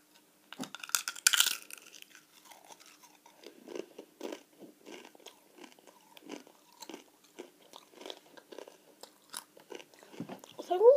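Someone chewing and crunching roulette candies up close, a loud crackling bite at first, then a long series of moist, rhythmic chews and small crunches.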